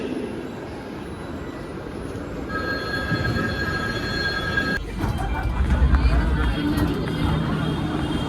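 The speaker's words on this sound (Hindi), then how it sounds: "चलो मेट्रो स्टेशन आ गए हैं।" A metro train runs through an Indian station, a loud continuous rumble with high tonal whines and a chime, then louder wheel and track clatter after a change midway.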